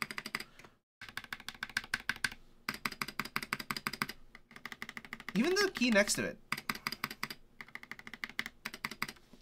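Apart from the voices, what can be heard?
typing on mechanical keyboard with bronze key switches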